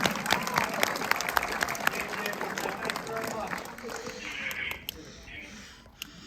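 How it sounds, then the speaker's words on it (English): An audience applauds steadily at a fan convention Q&A, a dense patter of many hands clapping that gradually thins out toward the end. "Round of applause for Neil Fenn, ladies and gentlemen."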